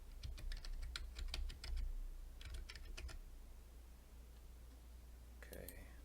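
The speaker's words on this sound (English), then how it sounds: "Okay, so I'm just going to type something really simple," Computer keyboard keys tapped in quick bursts while entering a password at a Windows Server 2012 setup, close and clear, with a short pause between runs and a brief electronic chirp near the end.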